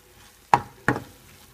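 Two quick scraping knocks of a utensil stirring salmon, zucchini and tomatoes cooking in a pan, close and fairly soft, separated by a brief pause over a quiet background.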